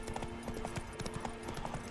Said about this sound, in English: Why he named the horse Roach?